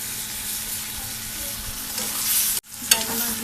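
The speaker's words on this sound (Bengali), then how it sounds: "এবার আমি বাইং মাছগুলো দিয়ে দেব।" Eel fish going into cooked-down spice paste in a pan sizzle steadily up close, broken by a brief cut and then a sharper burst of frying and stirring.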